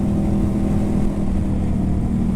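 Ducati Hypermotard 950 SP with aftermarket exhaust and ECU tune, rolling on and off the throttle in fourth gear, gives a steady, close, loud engine rumble that holds through the whole stretch.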